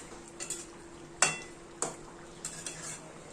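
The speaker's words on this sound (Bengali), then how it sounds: "এবার আস্তে আস্তে ফুটবে" Fish-roe curry simmering in a pan is stirred, with a soft bubbling sizzle throughout and several sharp scraping clinks of the spoon against the pan.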